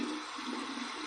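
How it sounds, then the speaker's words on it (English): Cold tap water runs in a steady, moderate stream for a rinse after shaving with bay rum shave soap, a continuous hiss with no talking. "here's my cold water rinse"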